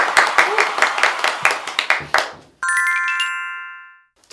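A round of quick hand claps, about a dozen sharp claps in uneven rhythm, fades out. A bright electronic chime follows, with a sustained ringing tone that slowly dies away.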